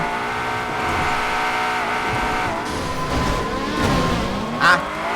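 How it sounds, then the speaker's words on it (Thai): An Aston Martin engine revs up and holds a rising, droning exhaust note, nearby and loud, with a brief pitch swoop as it shifts. "ดูเดียวดิ เสียงท่อนะ"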